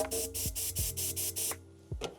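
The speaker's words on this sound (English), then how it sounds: "I made this spray tube so I can spray off" Homemade spray tube in a sign shop blasting off excess paint: seven short hissing bursts in a steady rhythm, each with a low thump as the valve opens, then a pause and one more brief spray, close and clear.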